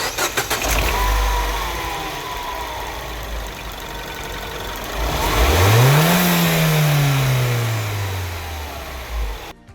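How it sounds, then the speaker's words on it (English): A Mini 1.6 THP car engine cranks and fires up, revving once loudly before settling into a steady idle, close by with no talking. "Start the engine"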